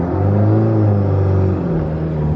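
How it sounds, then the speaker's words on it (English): Loud race car engines in the mountains, near and steady, one holding a high sustained note before dropping to a lower rumble as it pulls away, with no voices. "The sounds of race cars in the mountains."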